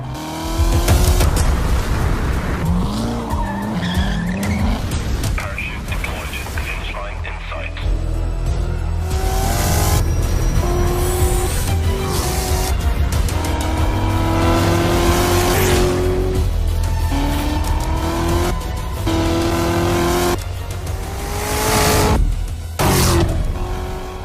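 A Corvette Z06 sports car races up the Klausen Pass in the Swiss Alps, its engine revving hard through rising and falling gear changes. Tires squeal briefly, music plays underneath, and the car stays loud and close throughout.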